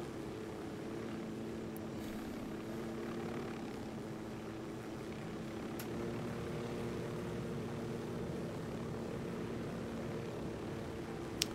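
A helicopter in Ghost Recon Wildlands flying steadily, a continuous droning rotor and engine roar that holds at an even level for over ten seconds with no talking.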